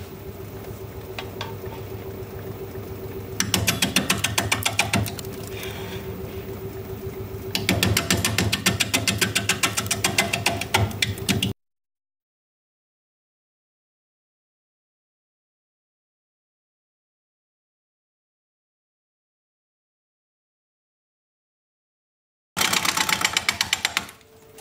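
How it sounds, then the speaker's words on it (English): A wood lathe turns a bowl blank at 430 RPM with a steady mechanical hum and bursts of rapid rattling chatter. It stops dead into a long silence, then starts again briefly at the end. "We'll be turning it at 430 RPM just until we get this balanced"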